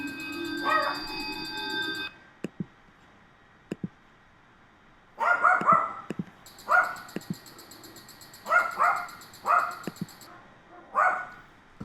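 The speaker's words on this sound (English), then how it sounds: "Dogs." Several dogs barking in short clustered bursts, some passes carrying an added chorus or phaser-like processing, with gaps of quiet between volleys and a steady high whine in the first two seconds.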